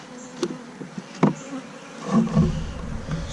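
Honeybees buzz around an open hive during an inspection, a steady insect drone with a few individual bees passing close by, rising in loudness toward the end.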